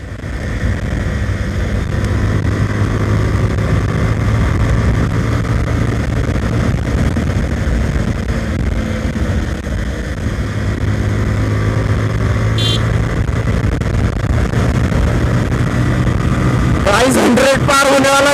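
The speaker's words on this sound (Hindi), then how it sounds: "अभी बाइक फुल स्पीड चलने वाला है" Bajaj Pulsar motorcycle ridden at full speed, its engine droning loud and steady with rising and falling pitch and rushing wind, a rider's voice speaking over it near the end.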